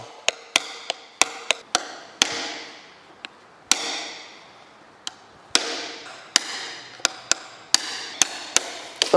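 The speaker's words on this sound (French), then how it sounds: "Donc là normalement il y a juste à le taper et il devrait sortir." Jeep Cherokee XJ transfer case output seal being tapped out with a hammer, a series of sharp metallic knocks at an uneven pace, some in quick pairs, close and clear with short ringing decay.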